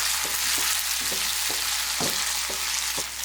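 Cut capsicum sautéing in a pan with fried dried chillies, a constant loud sizzle broken by regular soft knocks of a spoon stirring, about two per second, with no talking.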